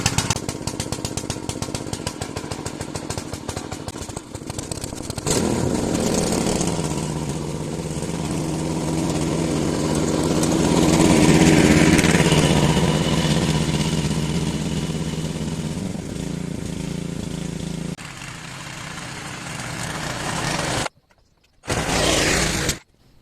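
A tractor engine runs continuously in a hillside vegetable field, a steady, loud mid-pitched drone that swells and eases slightly as it works, with no talking, ending in a brief silence.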